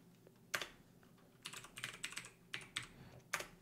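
Keys on a computer keyboard are tapped to enter a short password, scattered quiet clicks in small irregular clusters, close up in a quiet room.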